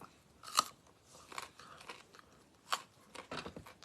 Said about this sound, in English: Munch on my carrot.